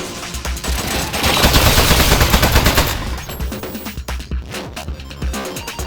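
Rapid automatic turret gunfire from the video game Aperture Desk Job, a loud sustained burst of shots for about three seconds that then breaks into scattered, sparser shots and clatter.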